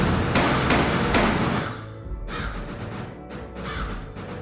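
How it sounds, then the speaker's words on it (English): Crows in the video game Deadbolt caw harshly in a dense flurry as they stream from an undead portal, then thin out into scattered calls and thumps. "And a bunch of crows going out of it."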